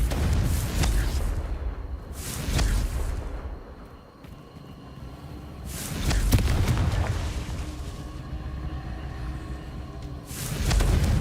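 Confringo fire-blast spell explosions in Hogwarts Legacy, three loud bursts spaced a few seconds apart, each swelling into a rumbling boom over quieter game ambience.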